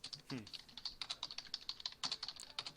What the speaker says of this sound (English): Someone's angrily typing.